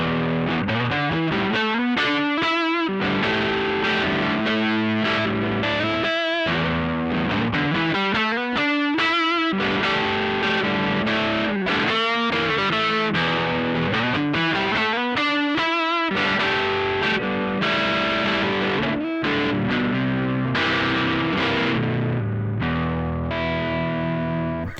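An electric guitar, a Strat played on the neck pickup, runs through a Lovepedal Superlead distortion pedal for a Marshall-style tone. It plays continuous bluesy overdriven chords and riffs, loud and unaccompanied, with brief pauses between phrases.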